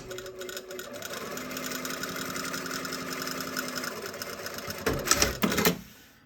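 Sewing machine stitching fabric for a garment placket, a steady fast mechanical whir and needle chatter running several seconds, then a few louder clunks as it stops; close and alone.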